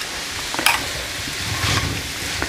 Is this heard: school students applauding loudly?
no